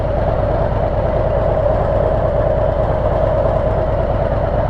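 A motorcycle fitted with a FuelMoto exhaust insert rides along, its engine a steady, loud, continuous drone with a low rumble running unbroken throughout.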